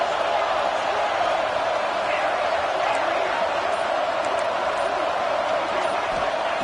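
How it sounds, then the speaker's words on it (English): A packed college football stadium crowd at TCU versus OU, a steady, dense roar that never lets up, with a voice talking over it. "listen to this crowd noise. This stadium is vibrating."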